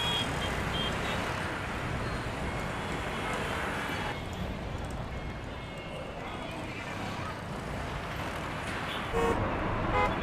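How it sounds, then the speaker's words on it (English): Car horns toot now and then through a continuous roar of busy city road traffic, steady and dense throughout, with voices mixed into the background noise. "Their lack of patience is visible in their driving, horns blowing"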